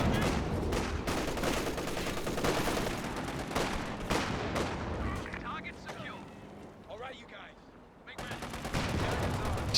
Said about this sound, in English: Tank gun here trying to destroy the sandbags